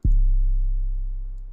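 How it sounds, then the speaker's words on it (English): A single quiet, unmixed 808 bass note, deep and smooth, sustaining and slowly fading over a second and a half with no other sound. "this is what the 808 sounds like without any mixing on it"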